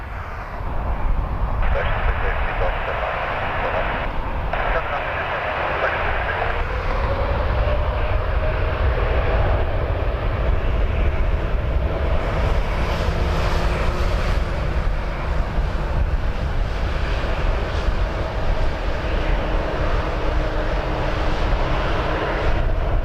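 A KLM airliner departs Toronto Pearson bound for Amsterdam, its jet engines building into a loud, sustained roar. A person talks over it the whole time.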